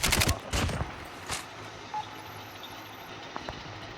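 Bursts of gunfire in the mobile shooter Call of Duty Mobile, a loud rapid volley at the start followed by scattered fainter shots and distant engine hum.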